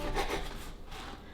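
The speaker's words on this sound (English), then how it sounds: "We're gonna cut 1 inch thick." A knife rasps through a loaf of bread, cutting a slice about one inch thick; a short, close sawing scrape with no voices.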